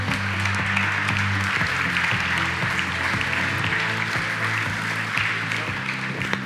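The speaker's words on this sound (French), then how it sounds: "Merci de l'applaudir." At a security directors' gala, an audience applauds in a steady, dense wash of clapping, with a low hum beneath it and no talking.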